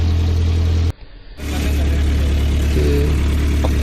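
Close, steady low idle of an old Nissan S110 Gazelle engine with uneven running, briefly cut by a short sharp break before the rumble resumes and holds.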